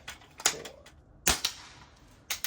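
Sharp pops from a 1981 Crosman Model 1 pellet air gun shooting cans with .22 caliber pellets: three separate loud cracks spaced about a second apart, with a quick double shot at the end and brief metallic ring after each.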